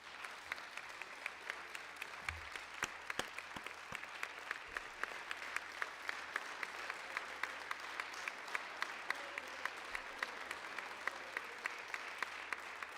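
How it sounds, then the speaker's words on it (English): Democrats in Congress applaud in a chamber on Capitol Hill, with sustained, dense clapping from a large group at an even level throughout and no speech over it. "That's the Democrats applauding him."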